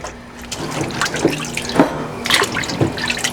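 Freshly pulled garden carrots washed in water, with close splashing and dripping as the roots are swished and rubbed, in short irregular bursts.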